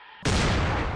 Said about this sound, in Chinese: 我们可以对 Tommy 开枪吗？